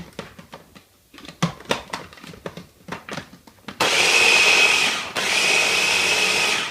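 An electric mixer blends cookie crumbs with melted butter for a root beer float pie crust: soft handling knocks first, then a loud, steady whirring roar that stops briefly and starts again.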